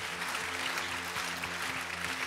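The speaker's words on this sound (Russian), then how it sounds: "Эти аплодисменты для вас." Congregation applause during a church service, steady clapping under a sustained musical drone with low instrumental tones running beneath, moderately loud throughout.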